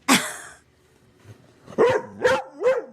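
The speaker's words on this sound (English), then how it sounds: "What an unhinged dog, actually." A dog named Gunner lets out a sharp bark, then after a pause three closer, whining yelps in quick succession, loud and alone without talk.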